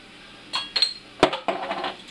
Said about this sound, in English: Let's pop the top off of this one and take a look.